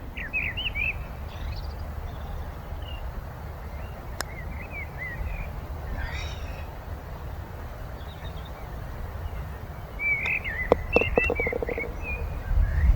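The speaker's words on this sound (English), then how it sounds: "You can go a long way in the world and not find a noise better than a blackbird." Melodic blackbird song phrases come and go over a steady low rumble on a golf course, with a few brief clicks near the end; the singing is moderately distant.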